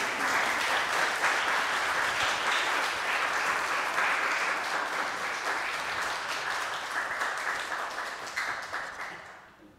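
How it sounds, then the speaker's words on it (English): A church congregation applauds after the closing blessing of a Sunday service, a dense, steady wash of many hands clapping that holds for several seconds and then slowly fades out. "This is a good opportunity to applaud"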